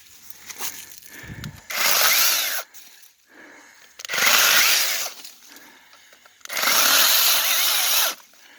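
Inokraft 4-inch battery mini chainsaw cutting through tree limbs, with three loud sustained bursts of motor whine and cutting, each roughly a second and a half long, separated by brief quieter pauses.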